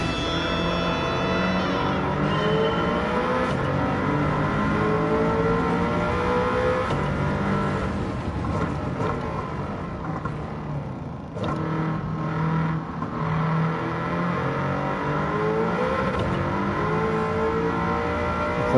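A Toyota MR2 with a swapped engine revs continuously in the Gran Turismo 7 racing game. The loud, steady engine tone rises and falls through the gears with no talk over it.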